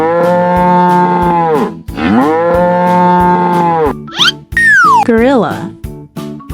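Cartoon cow in a paint-animals mobile game lets out two long, loud, sustained moos, followed by quick rising and swooping playful sound effects, with no talking over it.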